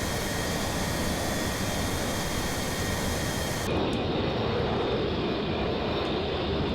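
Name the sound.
F-84F jet airplane engine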